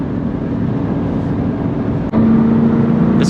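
A 1997 Ford Mustang Cobra SN95 accelerating in fourth gear, a loud steady engine drone heard from inside the car, briefly dipping at a shift-like break before a strong, even pull resumes.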